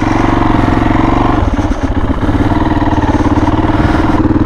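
A supermoto motorcycle's engine pulls away at close range, loud throttle blips and rising revs with a steady pulsing beat, with no talk over it.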